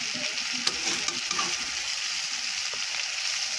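Food stirred in a frying pan, a steady close crackling sizzle with soft scraping stir sounds running through it and a few light taps, no voices.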